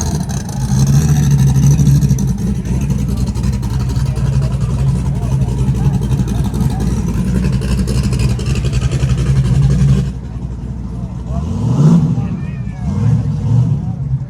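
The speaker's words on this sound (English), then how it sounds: "It's a Camaro and a Corvair." Classic Chevrolet Camaro and rear-engined Corvair pass at a Cars & Coffee show in California, Maryland, a steady loud engine drone under the mix, then a quieter stretch with a nearer car swelling and fading near the end.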